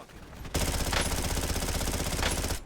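SMG fire in Call of Duty Warzone: after a short quiet start, a sustained, loud, rapid stream of submachine gun shots runs unbroken to the end, close and harsh, with no voices.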